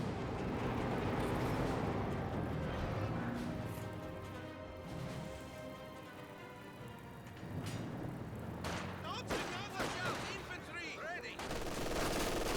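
Machine-gun fire raking German grenadiers in a Company of Heroes 2 battle, rapid shots and bursts packed into a continuous loud din of combat noise that eases slightly midway before picking up again.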